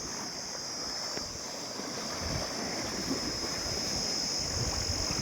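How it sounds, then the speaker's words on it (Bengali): Waves lapping on a Sundarbans river, a steady broad wash of water with wind rumbling across the microphone and a faint high hiss running throughout, continuous and close. "আজকে দেখো ঢেউ দেখো"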